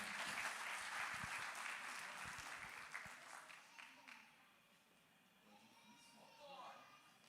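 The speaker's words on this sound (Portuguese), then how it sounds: "Palmas para eles, irmãos, que Deus abençoe." A church congregation applauds in a dense wash of clapping that gradually fades out over several seconds, with a voice speaking faintly toward the end.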